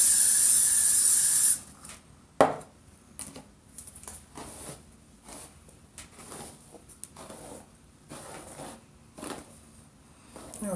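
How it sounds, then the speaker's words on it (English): Hairspray bursts onto a wig being styled for pageant hair: one loud, close, sustained aerosol hiss of about a second and a half, followed by quieter handling and brushing noises. "spray it"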